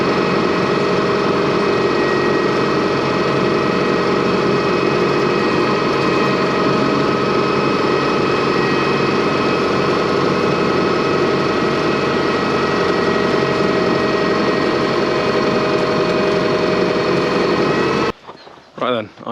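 A tractor engine idles steadily while hooked to a pipe reel, a close, continuous mechanical drone with fine vibration and no change in speed, cut off abruptly near the end.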